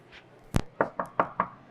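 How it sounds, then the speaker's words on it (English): Five sharp knocks on a bathroom door that is occupied, one louder knock followed by a steady evenly spaced series of four, close and clear with no talking. "if it is occupied, I do have to knock"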